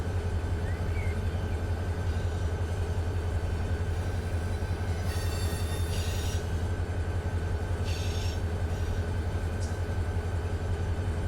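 A freight train rolls steadily downhill in Run 8 Train Simulator, a constant low rumble of wheels and cars with brief higher hiss or squeal bursts partway through, loud and continuous with no talk.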